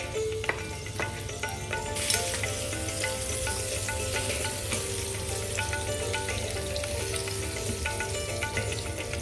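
Osso bucco meat browning in a hot pan for an apricot and orange dish, a steady loud sizzle and frying crackle throughout, with occasional utensil clinks and a burst of hiss about two seconds in.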